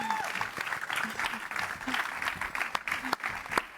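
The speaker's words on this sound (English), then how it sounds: "That was your applause" Audience applause at the Impact Stage on the first day of a 2024 event: steady, dense clapping from a crowd, heard over and between a person talking on stage.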